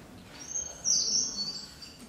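A toy bird gives a bright, high chirping whistle, one sustained warbling burst in the middle, close and fairly loud over a faint background hiss.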